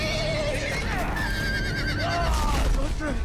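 A horse neighs and whinnies repeatedly in a video game amid busy game noise and clashing combat sounds, loud and close throughout.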